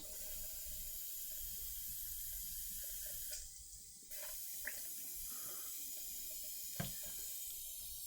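Tap water runs steadily into a sink while something is rinsed at a hobby workbench, with a constant splashing hiss, a brief change partway through and a couple of small knocks, no talking.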